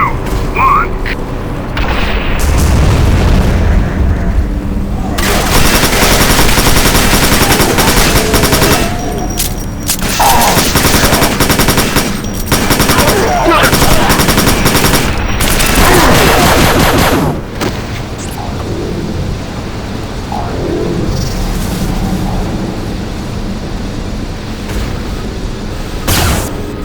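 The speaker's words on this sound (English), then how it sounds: "Orbital artillery has just been informed. Bombardment to commence in 3," An orbital artillery bombardment in the shooter Quake 4 pounds down in loud, repeated booming explosions and rapid gunfire bursts for a long stretch. Voices and game dialogue are heard between and beneath the blasts.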